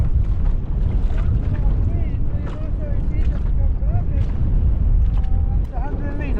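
Gusty wind of around 20 knots while sailing on choppy water, roaring steadily and buffeting the microphone, with splashing water underneath and voices talking over it.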